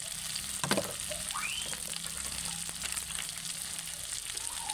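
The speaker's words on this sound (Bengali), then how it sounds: "আলুগুলো দিয়ে আরও কিছুক্ষণ ফ্রাই করে নেব" Half-mashed boiled potatoes frying in a pan with salt, a quiet steady sizzle with an occasional stir or scrape and a faint sliding tone, close and fairly soft, without talk.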